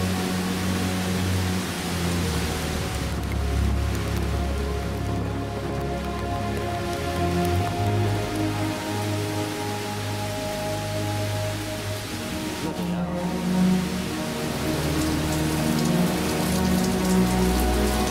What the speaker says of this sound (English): Just like that, it starts to rain.